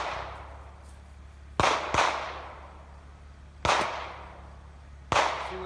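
Rifle shots from an Aero Precision .223 Wylde 18-inch upper crack out loud and sharp, four reports in two spaced pairs, each followed by a long decaying outdoor echo.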